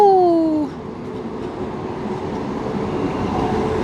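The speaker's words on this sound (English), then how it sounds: "the train going to Appenzell and then all through this city" A train at St. Gallen station in Switzerland, bound for Appenzell, rumbles past with a steady broadband roar after a brief falling tonal whine or horn at the start, loud and continuous.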